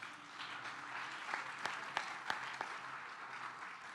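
A church congregation applauds with a steady wash of soft, fairly distant clapping, with a few sharper individual claps standing out.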